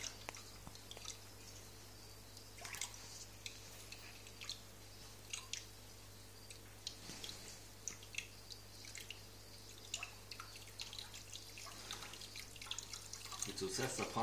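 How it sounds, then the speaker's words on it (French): Water drips and trickles steadily out of a chameleon terrarium being emptied, a quiet, continuous patter of small drops and splashes. "Ça prend un peu de temps pour vider le terrarium, c'est logique."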